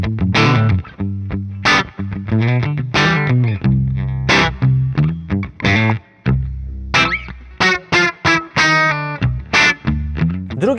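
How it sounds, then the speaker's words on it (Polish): An electric guitar runs through the Neural DSP Gojira plugin's tweed, Bassman-style overdrive, with heavy gain giving a loud, thick, gritty tone in choppy riffs and chords with short pauses, no talking. "mamy coś w stylu Fendera Bassmana, czyli przy gainie na godzinę 14-15 mamy naprawdę mocno brudzący, zatykający przester tweedowy."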